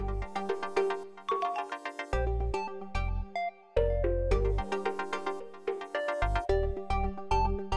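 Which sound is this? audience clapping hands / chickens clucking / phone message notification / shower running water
phone message notification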